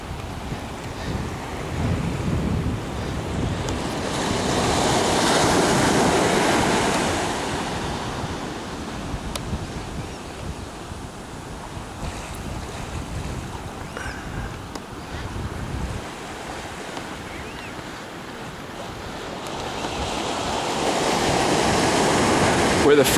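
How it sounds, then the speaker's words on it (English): Surf washing onto an empty beach, a steady broadband roar that swells and recedes with breaking waves, with wind buffeting the microphone throughout and no voices. "Very nice, beautiful beach."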